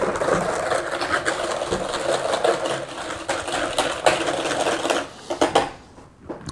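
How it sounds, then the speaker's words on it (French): An Italian soft-serve ice cream machine churns lemon sorbet with a steady mechanical whirring and rattling motor hum, then falters into uneven bursts near the end. "Je le prends et je le mets dans ma machine à glace à l'italienne."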